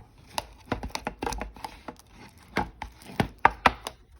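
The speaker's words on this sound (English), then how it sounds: "we're just going to get a spoon and give that a little mix" A spoon stirring dry yeast into a fruit fly culture, irregular close scraping and tapping knocks against the container, with no talk.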